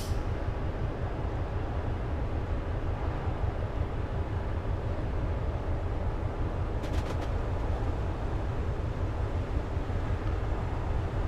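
A train runs on the West Coast Main Line Trent Valley in Train Simulator Classic, giving a steady, heavy low rumble of rolling wheels and motors that stays constant throughout, with a brief faint high chatter midway and no talking.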